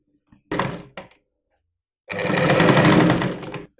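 A sewing machine stitches a saree blouse seam in two bursts, a short start-stop pair of runs and then a longer, steady, close whirring run of about a second and a half.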